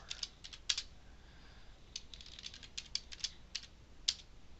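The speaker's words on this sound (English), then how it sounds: "I'm hitting spacebar after each of these." Keys tapped on a computer keyboard while entering equation editor commands, with irregular close clicks in short bursts and a spacebar hit between entries, quiet against a soft background hiss.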